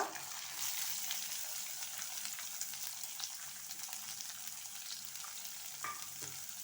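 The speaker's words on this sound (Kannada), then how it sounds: "ಈಗ 1 ಈರುಳ್ಳಿ ಚಿಕ್ಕದಾಗಿ ಕಟ್ ಮಾಡಿ ಇಟ್ಕೊಂಡಿದ್ದೇನೆ, ಇದನ್ನು ಆ್ಯಡ್ ಮಾಡುವ." Finely chopped onion frying in oil in a pan for masala vegetable rice, a steady close sizzle with occasional stirring clicks and no voices.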